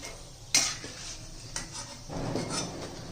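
Fried peanuts are scooped from a pan with a metal spoon and added to roasted poha for chivda: a sharp clink, then softer scraping and rustling under a faint sizzle, close and quiet.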